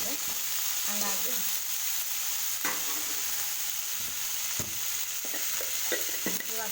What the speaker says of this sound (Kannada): ಸ್ವಲ್ಪ ಎಣ್ಣೆಯಲ್ಲೇ ಬೆಂದಿದೆ